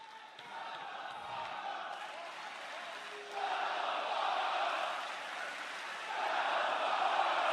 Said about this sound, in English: And the crowd's letting them know how they feel